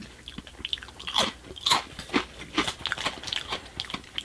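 Close, crisp crunching and biting on small Ritz-style crackers from a snack box, irregular bites and chews at an intimate distance, with no talking.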